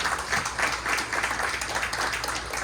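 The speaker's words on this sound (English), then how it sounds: "let's give him a round of applause" An audience at a Q&A session of the Ohio Mega Camps claps together in a quiet, even patter, faint and steady throughout with no voices.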